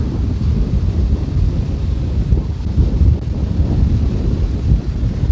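Waves breaking white over a harbour breakwater, heard from a sailing boat as a steady, loud low roar of surf mixed with heavy wind buffeting the microphone, with no talk.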